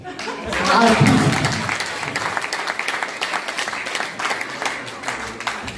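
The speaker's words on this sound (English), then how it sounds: "I clap hands for this one" A church congregation bursts into applause, the clapping of many hands swelling quickly and then continuing in a loose, uneven patter, with a few voices mixed in.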